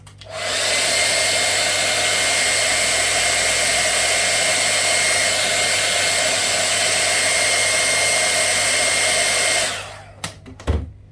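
A hair dryer blows steadily on a decoupage candle base, a loud continuous whoosh for about nine seconds that then cuts off, followed by a few brief handling knocks.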